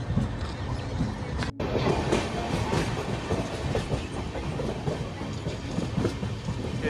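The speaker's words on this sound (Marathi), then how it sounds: "स्लो आहे एक्सप्रेस मेमू रत्नागिरी पॅसेंजर" Ratnagiri–Diva MEMU passenger train running on rails, heard from aboard as a continuous rumble with steady rhythmic clickety-clack of the wheels.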